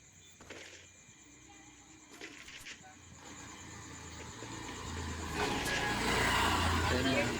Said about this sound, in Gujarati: ગાડીનો અવાજ આવતો હોય થોડો સાંભળી લેજો